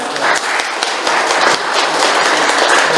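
An audience claps at the close of a panel discussion, a full, steady burst of applause with individual hand claps audible in the dense wash, loud and close throughout.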